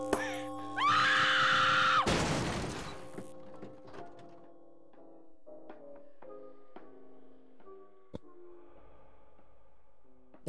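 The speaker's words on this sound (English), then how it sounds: "That was a very unsettling scream." A loud, drawn-out scream rings out in the horror video game Rhome, followed by a heavy crashing burst, then sparse eerie metallic tones and clanks echo quietly in an elevator setting.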